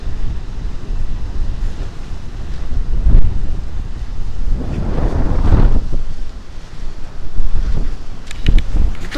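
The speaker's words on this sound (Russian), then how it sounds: "Там какие волны сегодня, классно," Sea waves wash onto the shore in strong wind, one big surge swelling and breaking midway, with buffeting gusts rumbling across the microphone throughout.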